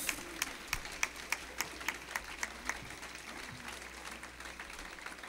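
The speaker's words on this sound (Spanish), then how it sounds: "A darle un aplauso al Señor" A church congregation clapping for the Lord during a Spanish-language sermon, fairly faint with distinct sharp claps standing out in a loose rhythm before fading into softer scattered clapping.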